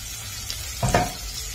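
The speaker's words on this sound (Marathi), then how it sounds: "तेल गरम झालं, आता कांदा टाकूया." Onions hit hot oil and sizzle in a home kitchen, a soft steady frying hiss with a brief louder burst of crackle midway.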